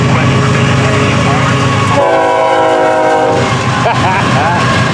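A Florida East Coast intermodal freight train with deep-well cars rumbles past loud and close, its horn sounding a sustained multi-tone blast midway over the heavy roll of wheels.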